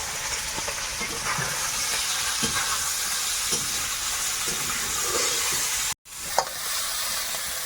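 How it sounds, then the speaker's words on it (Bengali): Parshe fish from the river frying in a kadai with chopped onion and green chili gives off a loud, steady sizzle, with occasional stirring scrapes and no talking. "মাছটা কিছুটা ভাজা হয়ে গেছে পুরো ভাজা হবে সঙ্গে পেঁয়াজ লঙ্কা ভাজা হবে"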